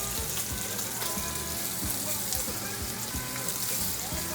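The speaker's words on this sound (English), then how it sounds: "I'm going to put all of my sausage into a preheated, I would say, skillet that I put bacon fat and garlic into." Sausage frying in a preheated skillet with bacon fat and garlic, giving a dense, steady crackling sizzle that runs unbroken throughout, close and moderately loud.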